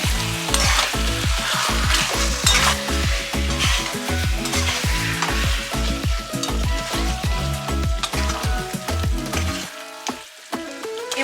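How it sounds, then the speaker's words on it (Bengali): Curry with yogurt just stirred in is stir-fried in a pan, with a loud, steady sizzle and rhythmic scraping of a spoon throughout, easing briefly near the end. "দই অ্যাড করার পরে কিন্তু ভালো করে আবার কষিয়ে নেব।"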